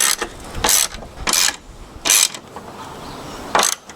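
A hand ratchet clicks loud and close while running down strut bar bolts on a BMW E36, with four distinct bursts of rapid pawl clicking separated by short pauses.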